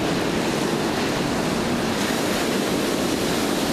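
Large swells driven by an approaching typhoon surge into Fugang fishing harbor in Taitung, heard as a dense, constant roar of surf mixed with wind noise, loud and unbroken throughout.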